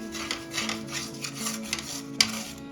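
A spoon scraping and stirring a thick khoa mixture in a pan for Mathura peda, off the flame, as soft rhythmic rubbing strokes with light metallic clinks and one sharper knock, steady and close.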